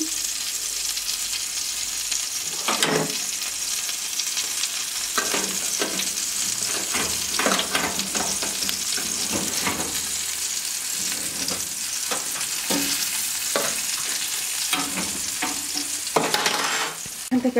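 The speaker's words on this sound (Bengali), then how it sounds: "হাফ সবজি আমি একটা কড়াইতে দিয়ে দিলাম" Vegetables sizzle and fry in a kadai, a steady hiss of hot oil broken by repeated scraping and stirring strokes, close and continuous with no talking.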